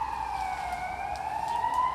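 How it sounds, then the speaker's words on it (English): An ambulance siren wails steadily as the vehicle passes, its rising and falling tone loud and continuous throughout, with faint road noise underneath. "Let this ambulance pass."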